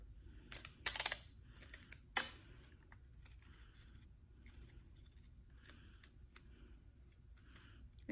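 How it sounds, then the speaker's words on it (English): Tape pulled and pressed onto paper in a quiet room, a few brief close rips and crinkles early on, then faint scattered taps and rustles. "And I'm gonna tape the other side now."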